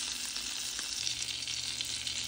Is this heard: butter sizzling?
yes